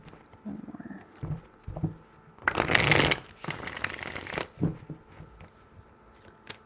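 Tarot cards being shuffled by hand, a loud riffling burst in the middle with softer card slaps and taps before and after, close up, no talking.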